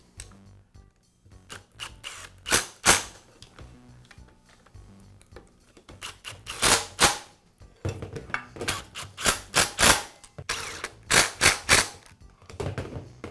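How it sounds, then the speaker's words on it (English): Screws driven in one after another to fasten the motor housing back onto the motor and gearbox of a Skilsaw circular saw, producing bursts of close clicking and ratcheting with short pauses between them and no talking. "Now reattach the motor housing to the motor and gearbox. and I'll secure it with the screws."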